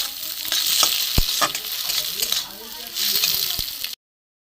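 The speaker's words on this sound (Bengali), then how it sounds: "একটু ভালো করে নাড়বো," Grated eggs and a spice mixture sizzle steadily in a frying pan while a spoon stirs and scrapes them with repeated knocks against the pan; no one speaks.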